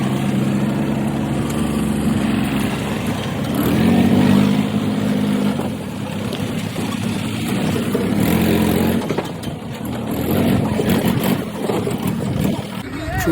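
A tractor engine runs in a steady, low rumbling drone that rises and falls slightly in strength, heard close, with voices talking over it at times.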